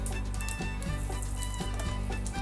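Dried red chilies, bay leaf, cumin and asafoetida sizzling in hot oil for a potato curry, a dense continuous crackle close by with a few faint taps from the pan.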